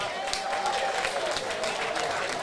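A boxing club home-show crowd gives a short burst of steady applause for a bout winner, clapping and cheering continuous and fairly close, with voices blended in.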